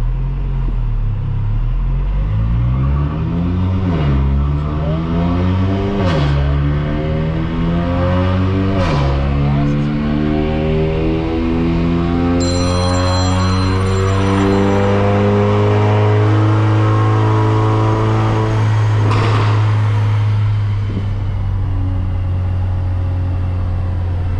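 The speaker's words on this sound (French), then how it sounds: "C'est parti l'accélération, tout est synchronisé là-bas, c'est bon, log activé, j'enclenche pour prendre la mesure et c'est parti l'accélération." A tuned car on a remap data-logging run accelerates hard, its engine pulling up through repeated rising sweeps with brief dips at gear changes, loud and close throughout, settling into a steady high drone near the end.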